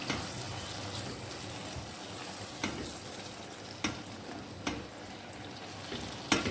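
Ground masala and arvi sizzle and fry steadily in a pan, with occasional sharp stirring scrapes cutting through the continuous crackle.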